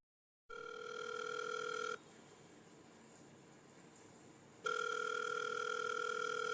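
A phone rings unanswered: a long steady electronic ring tone, a pause with faint background hiss, then the ring tone resumes, all heard alone without voices.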